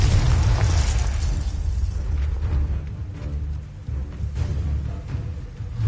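Heavy low booms and rumbling blasts from Confringo spell explosions in Hogwarts Legacy, loud and continuous with overlapping impacts throughout.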